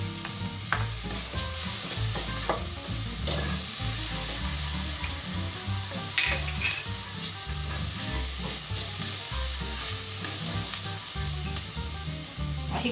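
Chopped garlic sizzles and crackles steadily in a hot pan with onion, stirred with repeated scraping strokes while cooking a picante de carne; a close, constant frying hiss with no talking.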